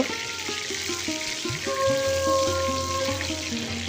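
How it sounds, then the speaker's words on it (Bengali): Whole cumin and whole garam masala crackle and sizzle in hot oil, with small pops and a soft hiss, close up. "এটা একটু ভাজা হতে দেব।"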